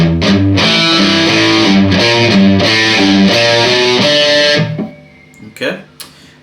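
Heavily distorted electric guitar plays a riff down an octave, a chugging repeated pattern that rings loudly for several seconds, then cuts off and leaves brief string noise.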